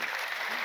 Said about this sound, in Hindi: ताली बजाओ सब लोग